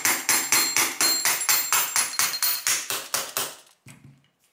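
A rifle grip being tapped onto a SIG SG 510 (Sturmgewehr 57) with a light hammer: a steady run of about sixteen quick, evenly spaced, sharp knocks up close, then a faint softer tap as it stops.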